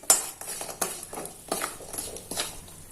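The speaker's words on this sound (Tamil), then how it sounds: "போட்டுட்டு நல்லா கிளறிக்கிட்டே இருக்கணும்." A utensil stirs ghee and jaggery melting in a pan, making repeated close scraping clinks against the metal at an uneven, steady pace with no talking.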